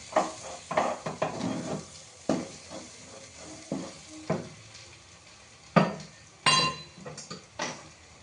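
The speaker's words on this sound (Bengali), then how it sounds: "চলটাকে ভালো করে একটু মিশিয়ে নিই।" A mixture being stirred in a frying pan, with irregular scraping and clinking strokes of a spoon against the pan over a soft sizzle, close and fairly quiet, no talk.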